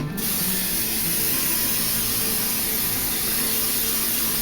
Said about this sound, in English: We're going to take some nonstick spray.